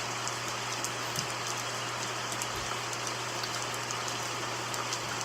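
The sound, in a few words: rain falling from a redwood tree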